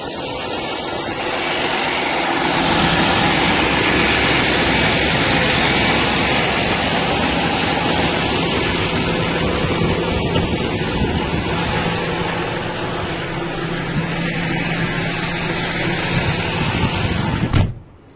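Steady, loud engine drone of a farm tractor heard from inside the cab, a broad continuous rumble with little variation, ending in a brief clunk as it cuts off; no talking.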